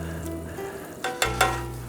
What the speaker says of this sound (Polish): zaczniemy smażenie